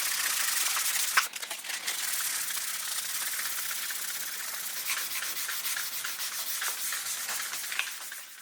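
Hand sanding a DIY PRS-style guitar body kit with 800-grit paper gives a soft, continuous scratchy rubbing in even strokes, fairly quiet and close, with no voices.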